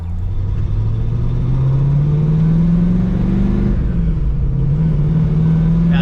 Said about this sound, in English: Now Dick, the one thing I'm noticing when you were idling, this car definitely has a cam in it.